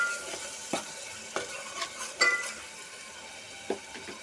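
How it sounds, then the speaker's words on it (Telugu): Ginger garlic paste sizzles in hot oil while a spoon stirs and taps the pan, a steady frying hiss broken by irregular close scrapes and clinks, with no voices. "అల్లం వెల్లుల్లి పేస్ట్ బాగా ఆయిల్లో వేగిందండి"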